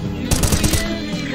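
Gunfire from a sniper rifle in a video game: a quick cluster of loud, sharp cracks lasting about half a second, with a low rumble continuing underneath.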